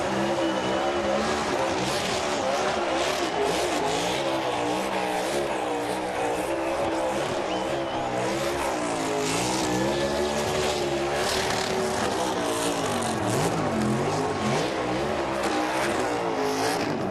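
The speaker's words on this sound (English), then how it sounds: "He's getting pretty darn good at those burnouts." Kevin Harvick's NASCAR Cup race car does a victory burnout after the 2022 Federated Auto Parts 400, its engine roaring loud and steady at high revs with screeching tire squeal throughout, over a constant crowd and track din.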